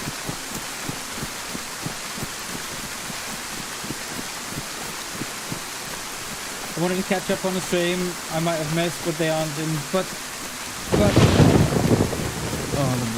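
Heavy rain pours steadily in the survival video game DayZ, a constant hiss under someone talking, with a sudden louder crash of thunder rolling in near the end.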